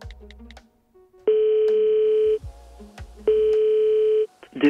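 Telephone customer service queue line: a steady electronic tone sounds twice, each about a second long, with short beeps and quiet gaps between.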